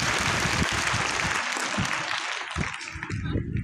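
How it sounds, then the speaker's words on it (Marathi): An audience at a school event for an anti-drug campaign applauds loudly, with dense, sustained clapping filling the whole stretch and thinning slightly toward the end. "आपल्या शाळेसाठी जोरदार टाळ्या वाजवा"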